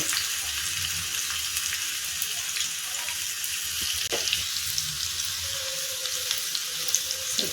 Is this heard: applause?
no